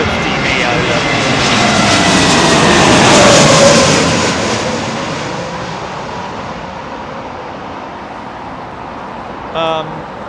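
A large airliner approaches to land on runway 27L at London Heathrow, its broad engine roar swelling to a peak overhead and then slowly fading, with steady traffic rumble underneath and a brief vehicle tone near the end.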